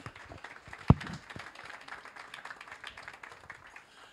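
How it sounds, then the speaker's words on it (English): Audience applause at an awards ceremony: a scattered, fairly quiet patter of hand claps from a room of people, with one sharper, louder clap near the start, continuing thinly to the end. "another round of applause"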